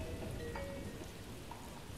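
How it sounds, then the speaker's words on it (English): Rain falls in the video game Jazzpunk as a steady, even hiss of drops on surfaces, continuous and fairly soft with no voices. "Yay, rain. It's rain time."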